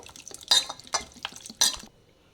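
Mango mixture mashed with water in a bowl by hand gives loud, wet squelching and splashing bursts in an irregular rhythm, a few sharp slaps standing out, then it falls quiet near the end.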